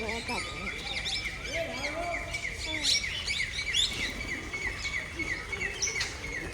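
Many birds chirping and tweeting at once at a zoo, a busy chorus of overlapping calls with a faint background murmur, moderately close.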